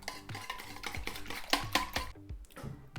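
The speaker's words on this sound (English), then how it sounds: "Whisk this up again." A whisk clicks and taps rapidly against a bowl as it beats an egg and milk mixture with garlic powder and spices for a slow cooker egg casserole; the sound is close and uneven, with no talking.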